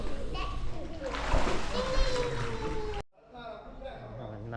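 Water splashes in a hotel swimming pool in Kuta, Bali, with children's voices and chatter over it, close and lively, then a sudden cut to quieter ambience.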